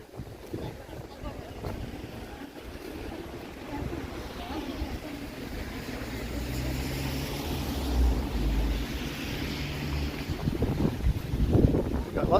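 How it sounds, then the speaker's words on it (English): Wind blows along a downtown Toronto street at sunset, a steady low rumble of gusts buffeting the microphone that builds toward the end, with faint voices and city noise underneath. "Yeah, it's pretty windy, Falcom."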